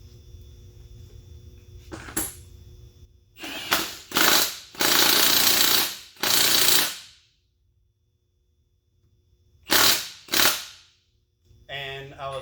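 An impact wrench tightens the nut on a new CV axle in several loud rattling bursts, each lasting about a second, with quiet pauses between them and low background hum.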